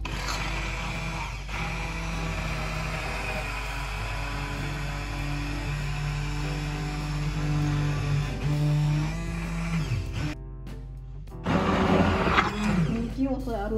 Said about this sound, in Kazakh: Енді блендердің көмегімен